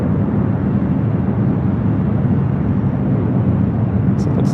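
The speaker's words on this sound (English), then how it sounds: "Looks like we also have ETA heading up here for a north side takeoff as well." A steady, loud jet engine roar from an airliner taking off at LAX, constant broadband rumble throughout with someone talking over it.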